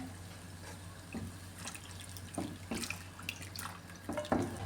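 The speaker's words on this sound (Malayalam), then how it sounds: "ഈ എടുത്ത് വെച്ചിരിക്കുന്ന ശർക്കര പാനി അതും കൂടെ ഒഴിച്ചു കൊടുക്കാമേ" Jaggery syrup pours and trickles into a pot of chana dal payasam in short bursts, with soft splashes and drips against a steady low hum.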